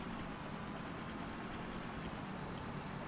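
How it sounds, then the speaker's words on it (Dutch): A tractor engine running in the DayZ video game, a steady low rumbling drone that holds at constant loudness throughout, without pauses or speech. "Oké, de tractor werkt."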